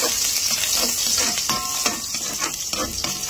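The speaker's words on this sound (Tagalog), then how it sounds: "Fry natin garlic." Garlic sizzles and fries steadily in a pan just used for potatoes, with repeated stirring scrapes and clinks close up throughout.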